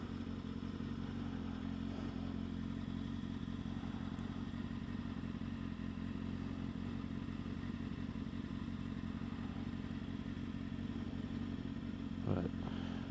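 Kawasaki ZX6R motorcycle engine running steadily while riding on a sunny commute, a continuous low drone with no talk, plus a brief thump near the end.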